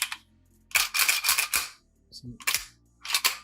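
Sharp metallic clacks and snaps from a Heckler & Koch USP Expert pistol during a safety check and magazine handling, several quick mechanical clicks in bursts, close and crisp, with brief pauses between.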